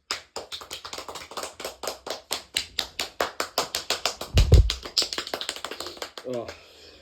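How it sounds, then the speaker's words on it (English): A single person claps steadily during a podcast, about twenty sharp claps in quick rhythm, close to the microphone, with a low thump partway through. "Round of applause."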